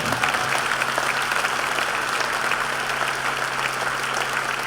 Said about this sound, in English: please, a big round of applause for all these people.